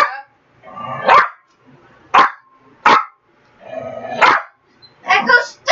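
A dog barks excitedly indoors in sharp, loud bursts, several separate barks spaced irregularly, with a person talking between them.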